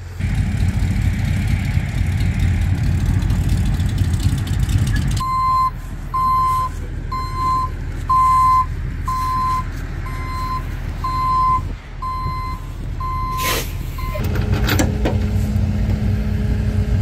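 A tow truck engine idles with a low rumble as a regular series of high reversing beeps sounds over it, followed by a burst of mechanical noise near the end.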